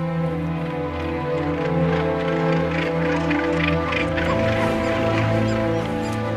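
Seabirds called boobies honk and cackle in a dense colony chorus, a steady loud din of overlapping calls set against a low continuous rumble, with no voices.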